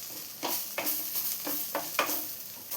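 Chicken masala powder and Kashmiri chili powder are mixed in a pan on low flame for chicken pasta sauce. A spoon makes rhythmic scraping strokes about twice a second over a soft sizzle.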